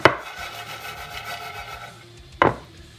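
Raw peanuts being spread out on a baking sheet: a short dry rustling scrape of nuts sliding over the pan, followed by a sharper clattering scrape near the end, close and alone.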